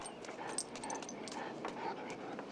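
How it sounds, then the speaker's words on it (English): A dog pants and whimpers in a scene from the 1987 film The Lost Boys, soft breathy panting with faint whines over a steady low background hum at moderate level. "This dog's crazy."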